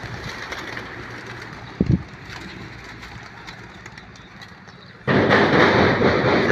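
Racing pigeons flying in at a derby finish loft after a release from Badoc, Ilocos Norte, heard as steady outdoor noise with wing and wind rush, a brief flutter, then a louder whooshing burst near the end.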